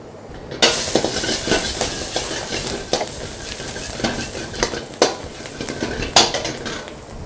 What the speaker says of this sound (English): pan is hot, oil is hot. Garlic, ginger, chili.